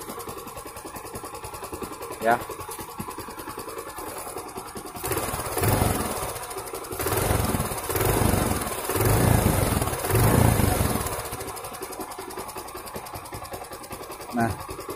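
Yamaha Jupiter Z or Vega R motorcycle engine running smoothly after a TDR clutch housing was fitted, a steady mid-pitched hum that swells and revs for several seconds amid workshop background noise, with a brief spoken word.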